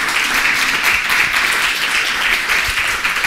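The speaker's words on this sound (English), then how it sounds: "please a warm applause to our two wonderful guests tonight." Applause from the audience at an evening talk honouring two guests, steady and dense clapping filling the room throughout without pause.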